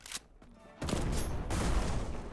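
Gunfire in the video game Black Skylands: a quick opening shot, then a loud, sustained burst of rapid fire that runs on steadily, close and dense.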